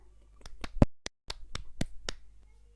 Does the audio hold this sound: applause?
yes